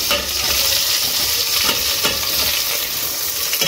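Onions dropped into hot oil with fried curry leaves for a river-fish curry sizzle loudly and steadily while a utensil stirs and scrapes the pan, with no talking.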